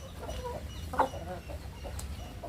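Country chickens and roosters cluck softly on a farm, with several brief calls over a low, steady background rumble.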